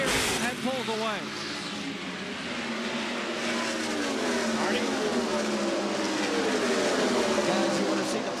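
Tony Stewart's IndyCar at the 1996-1997 IRL True Value 500 at Texas, refired in the pits and pulling away, its engine note rising and sweeping upward behind steady loud commentary and crowd noise.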